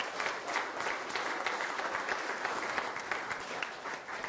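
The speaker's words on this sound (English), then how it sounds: "So nice round of applause for our booster officers." A room at a spring softball and baseball sports banquet fills with steady, dense applause for the booster officers, clapping spread evenly across the crowd for a few seconds.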